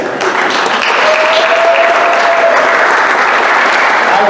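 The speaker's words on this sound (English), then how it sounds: "Somebody give me a good round of applause." A crowd gives a round of applause for a shop helper named Chris, dense steady clapping sustained throughout at close, loud level with no talk over it.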